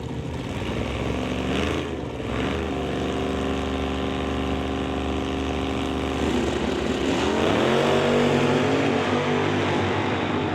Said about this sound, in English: Bring out Terry Kramer in the drag package Challenger to race Ron Walsh in the Camaro